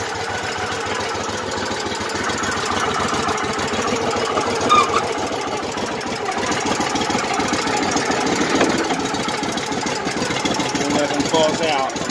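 A car engine idles low and steady after a cold startup on a December day, a continuous rumbling drone that runs unbroken throughout at close range.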